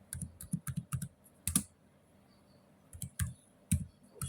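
An email being typed on a keyboard, quiet and close: quick bursts of clicking keystrokes, a pause of about a second and a half, then more scattered taps, with no talk.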